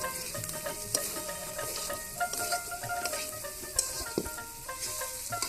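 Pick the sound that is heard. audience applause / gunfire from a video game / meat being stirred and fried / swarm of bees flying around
meat being stirred and fried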